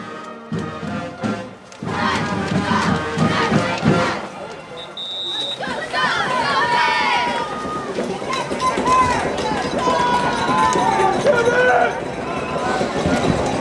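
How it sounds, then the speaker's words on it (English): Large football crowd roars continuously and loudly at Investors Bank Field during a high school playoff final, a dense wash of cheering and shouting with an announcer talking over it. "The crowd is getting extremely loud here at Investors Bank Field."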